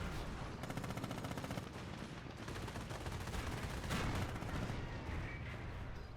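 Anti-tank guns trade fire in the World War II strategy game Company of Heroes, a dense run of repeated rapid shots and booms in the distance, fairly faint and steady throughout with no talk.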